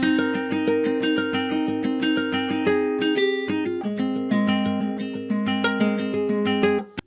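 Looped guitar chords ring out alone in a steady triplet rhythm, each chord change landing abruptly with no passing notes between them, a full and close sound for a trap guitar loop.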